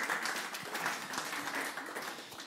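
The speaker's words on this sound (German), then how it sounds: "Nochmal großen Applaus fürs BKA-Theater für die Klimaanlage." Audience applause in a theater during a comedy talk show, a steady dense wash of clapping at moderate-to-low level throughout with no one speaking over it.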